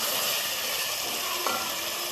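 Arvi (taro root) frying in masala sizzles loudly and continuously up close, with a brief stir or scrape midway through the steady hiss.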